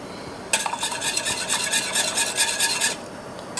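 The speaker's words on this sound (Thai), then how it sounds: "เราใส่วิปปิ้งครีมลงไปเลยค่ะ" Dairy whipping cream going into a pot for panna cotta, with a steady rasping, stirring scrape that starts abruptly, runs for a couple of seconds and then stops, close and fairly clear.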